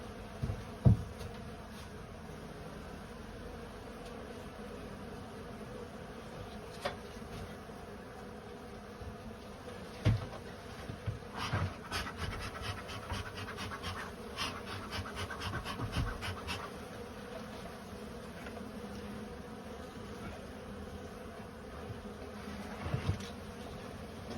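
Honeybees buzz faintly and steadily around Slovenian-style beehives being readied for winter, a low continuous hum with a few brief louder bumps and knocks.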